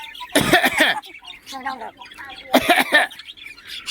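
A pet blackcap parrot chick gives short, raspy cough-like bursts that imitate a human cough, heard twice at close range between quieter chirps and soft human speech.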